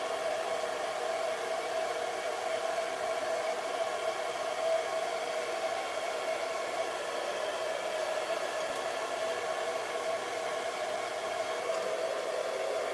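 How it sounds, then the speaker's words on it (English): A hooded hair dryer runs steadily, a constant close airy whoosh with a tonal motor hum, unbroken with no voices. "I have to go under the dryer."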